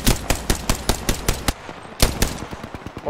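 Rapid bursts of automatic gunfire in a shooter video game, loud and close, in evenly spaced rounds with a brief pause before more shots.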